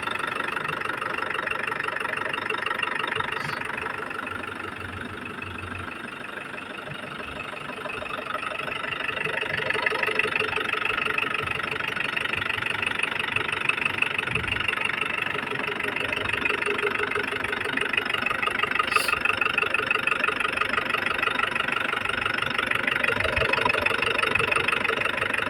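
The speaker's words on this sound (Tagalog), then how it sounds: "Painitin lang natin ng maigi yung makina." An Isuzu Trooper's 4JX1 diesel engine idles to warm up after an oil pressure pump repair, with a steady, continuous rumble and a faint knocking rattle that hold evenly throughout.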